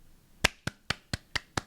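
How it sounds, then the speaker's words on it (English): Six sharp hand claps in a steady, evenly spaced rhythm, close and crisp against a quiet background, part of a K-pop dance routine. "Also that choreo with the clapping."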